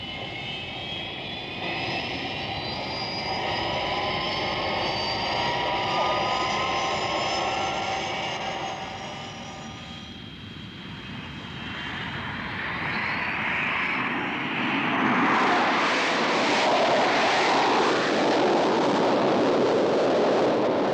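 An aircraft takes off and climbs away: a loud engine roar with sweeping whine tones that fades briefly, then returns as a broad, rushing roar of flight.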